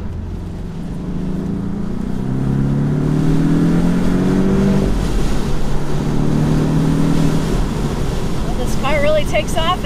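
A Porsche 718 Boxster four-cylinder engine roars and revs up through rising gear sweeps, loud and close, with a brief whine of shifting near the end.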